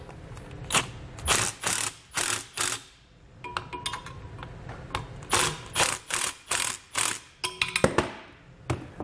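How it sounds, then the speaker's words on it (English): Ratchet with a 15mm socket tightening bracket bolts while installing air helper springs, delivering repeated quick bursts of clicking pawl strokes in uneven groups, close and crisp, with no talk. "We'll use a 15mm socket to tighten it down."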